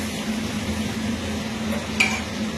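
Meat being stirred and slowly sautéed in a pan over a low flame, a steady soft sizzle with scraping stir sounds and one brief clink near the end.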